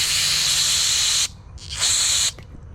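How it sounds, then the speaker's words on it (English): Brake cleaner blasted from an aerosol can down a line on a portable diesel air compressor: two loud, steady hissing sprays, the first about a second long and the second shorter after a pause, then a brief final spurt. "Shoot some brake cleaner down it."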